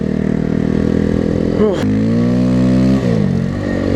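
A motorcycle drifts on snow in second gear, its engine droning loud and steady close by, with revs dipping and rising as it slides.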